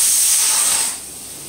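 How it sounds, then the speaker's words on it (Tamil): Steady high-pitched steam hiss from a pressure cooker cooking white rice, loud and close, then dropping to a softer hiss partway through; no voices. "ஒயிட் ரைஸ் வெந்துட்டு இருக்குது அதுதான் சவுண்டு"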